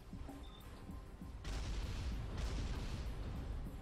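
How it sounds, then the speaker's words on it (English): Artillery fire in a Supreme Commander Forged Alliance battle: a dense, rumbling stream of distant booms and thuds that swells after a quieter opening and keeps going steadily, with no talk. "I love watching artillery fly."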